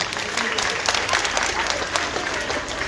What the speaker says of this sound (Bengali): হ্যাঁ, তার জন্য একটা হাততালি হোক